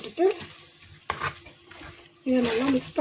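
Fish curry with sea snails is stirred in a pan. Short scraping strokes and soft sizzling come up close, with brief bursts of talk breaking in between.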